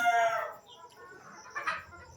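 Desi Sonali chickens cluck in a few short, moderately loud bursts at the start and again near the end, with no talk over them.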